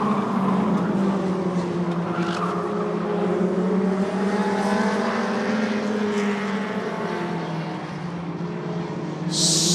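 Short track race cars racing wheel to wheel down the backstretch into a corner, a loud continuous blend of engine roars rising and falling in pitch as they pass close by.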